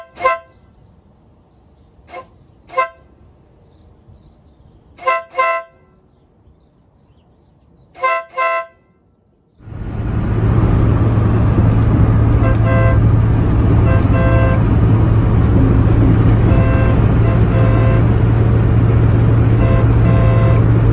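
A Mazda Miata's stock horn gives several short, sharp car-horn toots in pairs, then a 3rd Millennium aftermarket air horn blares in one long, loud, continuous blast that fills the rest of the stretch.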